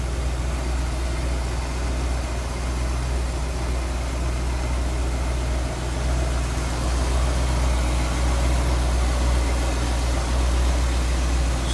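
A 1963 Ford Galaxie 500 Convertible engine idles steadily up close, a low even rumble with a constant mechanical hum and no voices.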